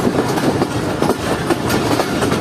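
The Jaffer Express passenger train rolls through Golra Sharif station without stopping, a loud, steady rumble with rhythmic clickety-clack of wheels over rail joints heard from on board.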